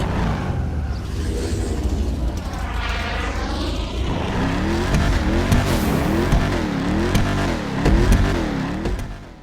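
A Declasse Mamba sports car in Grand Theft Auto V revs and accelerates, its engine note climbing and falling through gear changes with tire squeal, loud and close with no talking.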